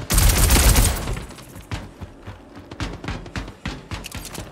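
Pistol shots ring out in Star Citizen: a dense, loud burst of fire opens, then sharp individual cracks follow in a fast, irregular string, each short and punchy.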